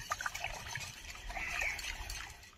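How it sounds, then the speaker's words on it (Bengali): A milk and curd mixture for mango yogurt poured into a bowl, a soft trickling stream heard close up and quiet, with no one speaking. "দইয়ের বাটিতে ঢেলে দেব।"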